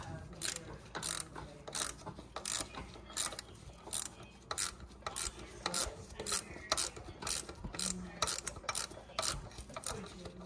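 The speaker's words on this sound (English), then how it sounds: "Then you got a ratchet. I'm gonna tighten it." A hand ratchet tightening a bolt on the AC compressor of a 2010 Honda Civic with an intermittent on-off fault, rapid clicking bursts repeating in a steady back-and-forth rhythm, close and clear.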